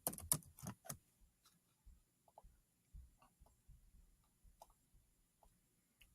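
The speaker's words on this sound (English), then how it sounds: "And I'm going to just type my first question." Typing on a computer keyboard, a quick cluster of sharp key clicks at the start, then sparse, soft taps and scattered keystrokes, close and quiet with no talk.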